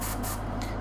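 An aerosol can of automotive primer sprays paint onto a plastic miniature in two short, close hissing bursts separated by a brief pause.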